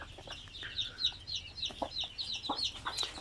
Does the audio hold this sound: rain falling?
no